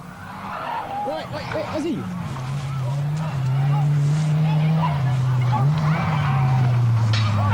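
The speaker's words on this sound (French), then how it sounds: "Pour Pierre Dumoulin, il suffit d'un dérapage non contrôlé." A race car in the 1986 24 Hours of Ypres rally slides in an uncontrolled skid, with tyre squeal and steady engine drone rising loud and close, while a crowd murmurs and a commentator talks over it.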